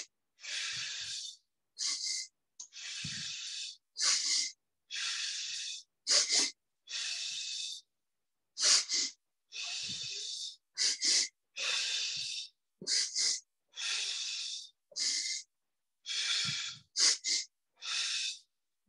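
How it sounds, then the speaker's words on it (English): A person does a breathing exercise alone and close up: two quick sniffing inhales through the nose, then a slower hissing exhale through pursed lips as if through a straw, repeated in a regular rhythm with short pauses. "you do two in through the nose and then a straw breath out"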